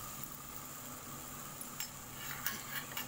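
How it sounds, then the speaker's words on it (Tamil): Masala sautéing and being pressed down in a pan over a slow flame for a raw banana fry: a steady low sizzle with a few soft scraping clicks of a utensil toward the end. "ஸ்லோ ஃப்ளேமில் வச்சு நல்லா அந்த மாதிரி அமுக்கி அமுக்கி வதக்கி விடணும்"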